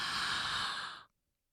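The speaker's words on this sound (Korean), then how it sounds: "일부러 숨소리를 내면서 들이마셔 볼게요" A single deliberate, audible inhale drawn deep toward the throat during a singing breath exercise, breathy and close, lasting about a second before cutting to silence.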